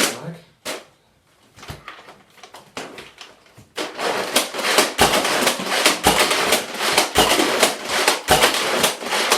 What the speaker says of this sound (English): Load the mag.